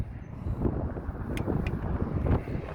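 Wind buffets the microphone in a low, constant rumble with gusty swells, close and fairly loud, with a few faint clicks, on a sunny day outdoors in Laredo, Texas.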